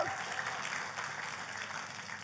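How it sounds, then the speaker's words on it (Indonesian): A church congregation applauds during a sermon, a faint, even wash of clapping that holds steady without pause and no voice over it. "Tepuk tangannya, pula yang paling meriah buat Tuhan kita"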